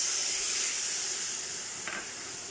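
Half a cup of water poured into a hot pan of Indian olive chutney, giving a steady close steamy hiss that fades slightly and has one brief splash near the end.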